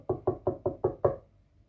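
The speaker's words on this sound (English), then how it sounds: "knocking at the door of Mr. Big" Six evenly spaced knocks on a wooden door, close and loud, each sharp rap ringing briefly before the next, then silence.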